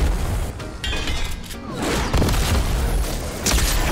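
Tank cannon fire and explosions in Fortnite, loud, dense booms and crashing blasts rolling one after another with little pause.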